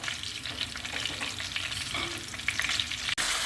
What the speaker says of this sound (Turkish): Daha sonra biberlerimizi çok az kızartacağım arkadaşlar.